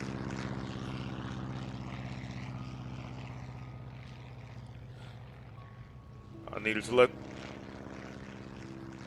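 A steady propeller-engine drone of airplanes flying past in the video game SimCity runs throughout beneath a man's speech, with a brief louder burst near the end.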